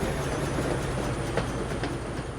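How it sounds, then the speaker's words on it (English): A train pulls away in the factory-building video game Foundry, a steady rolling rumble with faint rhythmic clacking of wheels, loud and continuous with no voices. "Oh no! I wanted to ride the train."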